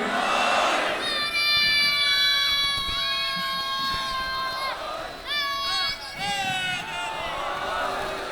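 Crowd at a majlis at an imambargah in Malir responding with loud collective chanted slogans, sustained voices rising and falling together, close and full, with a tonal shouted phrase standing out.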